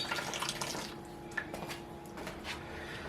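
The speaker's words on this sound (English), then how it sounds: "it's just going to be going out of the tap into the bucket. There we go, drains out." Wort pours from the tap of a BrewZilla Gen4 into a bucket, a steady splashing, trickling stream heard close and alone, with occasional brief drips and sloshes.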